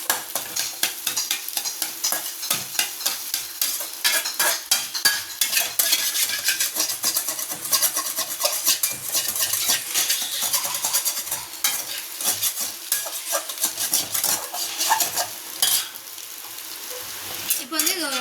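Egg frying in a pan for a Tamil-style ladies finger and egg stir-fry, with steady close sizzling broken by frequent quick scraping and clinking stirs of the utensil against the pan.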